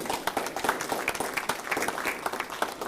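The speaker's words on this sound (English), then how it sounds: "giving a round of applause to Miss Patsy Hemp" An audience applauds a woman receiving a foundation award, a brief burst of moderately loud, irregular clapping from a modest-sized group.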